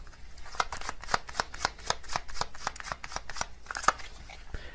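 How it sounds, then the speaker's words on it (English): Tarot cards are handled while drawing from a deck, giving a quick run of crisp riffling snaps and flicks, close and fairly quiet, in a steady rapid rhythm like shuffling. "I'm going to get another card from this deck as well."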